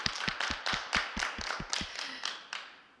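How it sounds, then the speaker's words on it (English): Applause from an event audience, heard as a string of sharp, fairly regular claps spread over about three seconds, moderately loud and without talk. "Round of applause."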